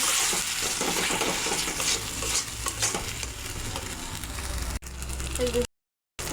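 Fish masala with cashew and sesame paste sautéing in a pan, a loud, continuous sizzle with spatula stirring, briefly dropping out before a short silence near the end.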